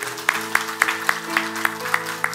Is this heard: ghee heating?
no